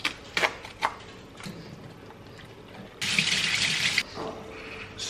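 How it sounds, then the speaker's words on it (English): Tap water gushes briefly over canned mixed beans in a kitchen sink during draining and rinsing, a steady rush of about one second amid quieter trickles and clatter. "Drain and rinse the mixed beans"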